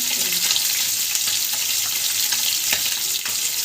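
Sliced onion frying in oil for okra with mustard-poppy paste, a close, steady hissing sizzle with a few faint stirring knocks and no talking.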